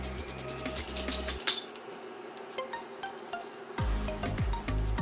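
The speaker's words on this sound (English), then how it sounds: "let's fry it for a little bit" Beef fries in oil in a pan for a pot roast, a faint steady sizzle with crisp crackles and scattered clinks of utensils, framed by a low electrical hum at the start and end.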